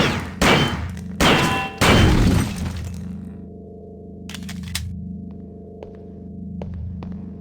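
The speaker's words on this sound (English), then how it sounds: "take a shot at the dummy robot by pressing the fire button when in shoot mode" Gunfire from a firearm aimed at a dummy robot in the video game System Shock 2: three loud, short blasts early on, then a low droning hum with a few faint metallic clicks.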